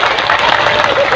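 Audience applauding at an Islamic gathering at Masjid Baitul Ihsan, a loud, dense burst of clapping with crowd noise mixed in, brief and continuous.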